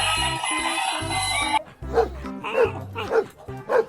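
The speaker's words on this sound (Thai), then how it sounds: "นี่ เรียกว่า สุนัขนะ" A battery-powered toy dog barks in repeated electronic yips and bow-wows, close and fairly loud, following a brief whirring tone, with a person talking over parts of it.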